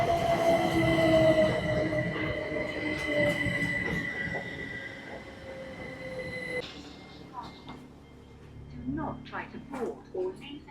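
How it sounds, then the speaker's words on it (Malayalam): Train pulling into a railway station in Wales, wheels squealing loudly as it slows alongside the platform, then rumbling and clattering to a stop while people talk nearby. "ട്രെയിൻ വരുന്നുണ്ട് കേട്ടോ."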